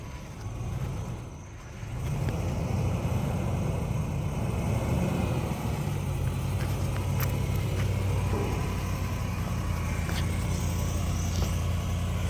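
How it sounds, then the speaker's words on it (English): A Lexus GX470 grinds along an off-road A-Trac test with both high-side tires spinning, a steady loud engine and wheel drone holding throughout after a brief quieter start. "So both my high side tires are spinning because they have less weight on them."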